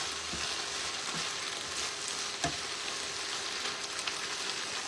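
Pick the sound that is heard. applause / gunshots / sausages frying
sausages frying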